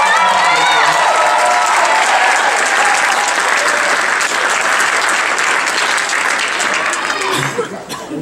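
A crowd at a campus pageant show applauds loudly for an organiser, dense sustained clapping with scattered cheers and chuckles, fading toward the end as voices come through.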